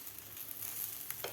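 A folded cheese thalipith paratha cooks on a hot griddle, giving a steady, soft, close sizzle throughout with no talk.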